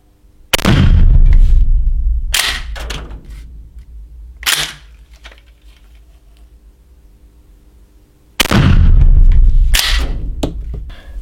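Several sharp, loud gunshot reports from a Kral Arms Tactical L firing 12/67 rubber-bullet rounds, spaced unevenly with echoing tails and a quieter shot in between.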